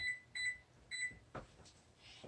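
A kitchen timer for the oven gives a few short, faint electronic beeps in quick pairs, followed by soft handling clicks.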